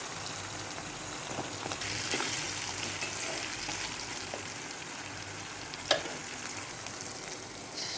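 Pumpkin pieces frying in a pan with shrimp, onion, chilli and salt, giving a steady soft sizzle throughout with a few faint stirring clicks and one sharp utensil tap near the end.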